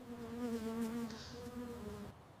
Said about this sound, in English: The bee will leave you alone very soon.